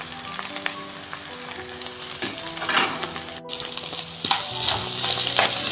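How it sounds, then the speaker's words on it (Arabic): Chicken liver and gizzards sizzle in a hot pan, a constant crackling fry broken by scraping stir strokes and light clinks of the utensil against the pan, with no talking. "وهنا الكبد والقوانص شغاله اهي، هديها تقليبه برضو"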